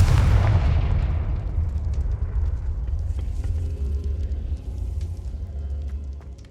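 A Confringo blasting spell from Hogwarts Legacy goes off in one loud, close explosive boom, then settles into a long low rumbling decay with scattered crackles.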